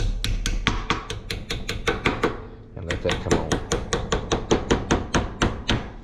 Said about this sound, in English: let me see if I can get my hammer here and I'll just kind of gently tap